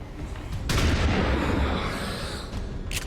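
Shotgun fire in the XCOM video game: a loud, sustained booming blast that swells and holds for a couple of seconds, then tapers off with a sharp crack near the end.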